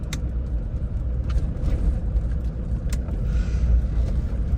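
A 2009 Land Rover Defender 110 TDCi station wagon is heard from inside as it drives, a low, steady rumble of diesel engine and road noise with a few faint clicks.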